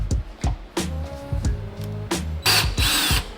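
A drill bores a pilot hole through an aluminum belly skid plate on an EcoDiesel Jeep Gladiator, heard in short bursts that ramp up and stop, ending in a harsher, sustained bite into the metal.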